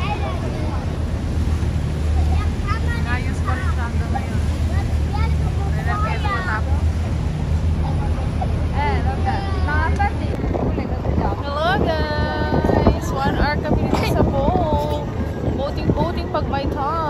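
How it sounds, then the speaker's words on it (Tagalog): A loud, steady roar of wind and rushing water runs throughout on a tour boat in Paris, with people talking faintly underneath. "Grabe ang hangin."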